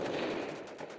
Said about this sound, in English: the calm disappears in a barrage of gunfire and mortar rounds